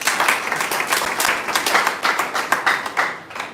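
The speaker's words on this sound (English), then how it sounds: "Can you clap for him?" Hands clapping together at a secondary school gathering, a steady, fairly loud patter of many claps from a close group that fades at the very end.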